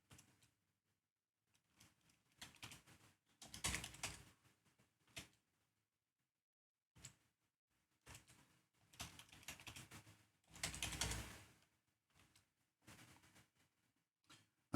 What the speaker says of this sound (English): And then I'll type the password.